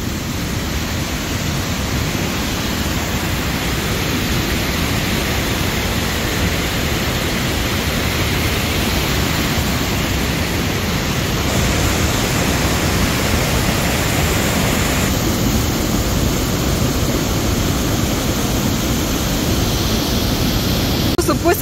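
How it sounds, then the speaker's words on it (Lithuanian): A second waterfall roars in a steady, dense rush of broadband noise, close and constant throughout without any break. "Priėjom dar vieną antrą krioklį."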